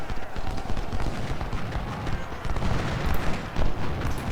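Massed gunfire and cannon blasts from an Ultimate General: Civil War battle rumble continuously as a dense, steady din of shots and booms with no clear pauses.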